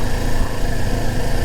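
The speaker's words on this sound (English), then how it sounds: "I love hearing the whir of that fucking motor just go." A stock motorcycle engine without an aftermarket exhaust whirs steadily, a close, loud, even mechanical drone through the whole short stretch.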